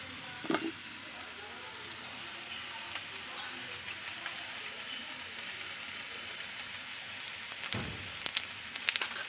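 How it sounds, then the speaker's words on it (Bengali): Cumin seeds and a bay leaf sizzle in hot mustard oil for a Bengali snakehead fish and radish curry, a steady, close, crackling hiss with a brief louder spatter near the end and no talk. "এখানে কিছুটা আমি সর্ষের তেল দিয়ে দিয়েছি আর এখানে আমি ফোড়নে জিরে তেজপাতা দিচ্ছি"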